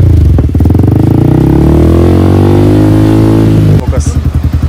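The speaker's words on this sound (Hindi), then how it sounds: "तो R1M का फुल एग्जॉस्ट सिस्टम लगा रखा है इसमें" A Yamaha R15 V4 motorcycle fitted with an R1M full exhaust system rumbles close and very loud, its engine note rising and falling with revs before settling back to a pulsing idle, with a voice mixed in over it.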